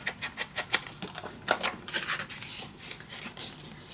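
Paper being trimmed for a scrapbook mini album, a quick run of crisp, close snipping cuts in short bursts, then a softer sliding rasp, with no talking.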